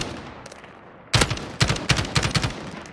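Bursts of automatic gunfire in the online shooter game Call of Duty Warzone, several sharp rapid volleys in quick succession after a quiet second, loud and close with no talking.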